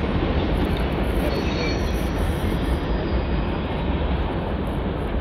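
CSX M409 manifest freight train led by locomotive 5258 with a third-generation K5LA horn, rolling past at Newburgh, New York: a loud, continuous rumble of wheels and railcars close by, with no talking.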